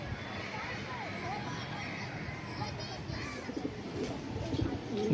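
Racing pigeons coo softly in a loft, low repeated calls partly buried under steady background noise and a voice talking over them, with children faintly audible nearby.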